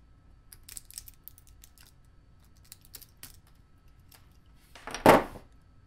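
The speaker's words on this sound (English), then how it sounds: "and then peeling the support out." Support material being peeled off a 3D printed object, faint small clicks and snaps at first, then one louder sharp tearing crackle near the end, close and alone.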